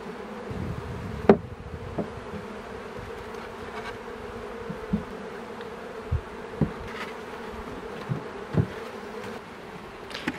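Honeybees from a large, populous colony swarm around an open beehive, making a constant, close buzzing drone with occasional louder passes of single bees near the listener.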